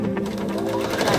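A sewing machine chain piecing quilt pieces for half square triangles, a brief burst of rapid steady stitching, close and loud, with no talking.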